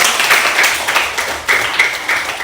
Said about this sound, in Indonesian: Tepuk tangan dulu sama.